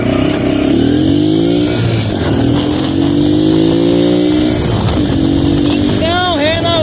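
A Honda Pop 110i motorcycle engine revs loudly and continuously, its pitch climbing and falling through repeated throttle blips, close-up and dominant, with a voice briefly audible over it near the end.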